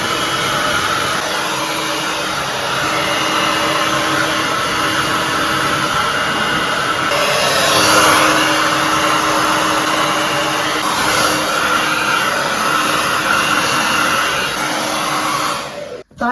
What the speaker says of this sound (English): I'm going to quickly blast my hair, get it to a point where we can give that thermal brush a go